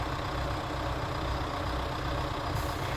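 Small tractor engine running steadily while towing a large car up a snowy slope, a continuous low droning rumble with no voices over it.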